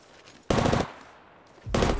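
Gunfire in the video game Apex Legends, two loud bursts of rapid automatic shots, the first about a quarter second long and the second starting near the end, separated by a quiet gap.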